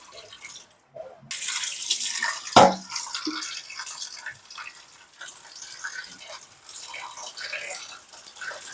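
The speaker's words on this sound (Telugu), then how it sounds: "బాగా నీట్గా వాష్ చేసుకోవాలి. ఇది 2-3 సార్లు వాష్ చేసుకోవాలి." Tap water runs and splashes while goat head meat is washed in a kitchen, with a steady trickle, a brief sharp splash early on, and faint background sounds.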